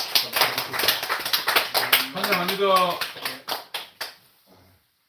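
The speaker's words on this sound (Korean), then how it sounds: "우리 방문하셨으니까 박수 한번 하실까요?" Church congregation gives welcoming applause for visiting guests, with rhythmic claps that gradually thin out and fade, while a voice speaks over them.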